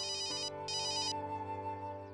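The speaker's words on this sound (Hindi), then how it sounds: "नीतू आंटी का फोन" A mobile phone ringtone sounds clearly in two short bright bursts over a sustained tonal music bed, with no talking.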